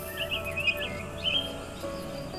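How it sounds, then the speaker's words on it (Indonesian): Small birds, sparrows, chirp in short, high bursts in a rice field over a steady outdoor background, the calls fairly faint and spread out rather than continuous. "Ada burung terbang bertengger di tangkai-tangkai padi."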